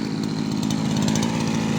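Petrol brush cutter engine running steadily at high revs, a loud buzzing rattle close by with no talking.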